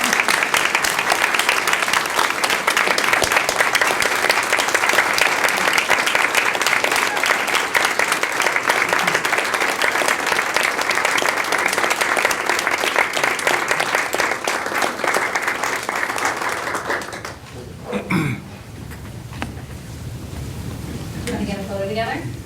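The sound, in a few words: applause at a school board meeting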